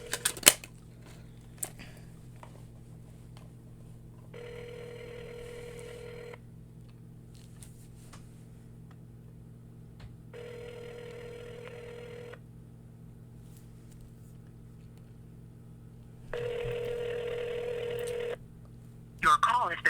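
A phone call rings out in three long bursts of ringback tone, evenly spaced, over a low steady hum, then cuts toward voicemail; a few clicks sit at the start and end.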